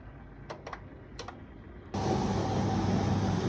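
A small countertop dishwasher starts a full wash cycle, a few faint clicks giving way to a sudden steady rushing whir of water and motor that continues evenly to the end.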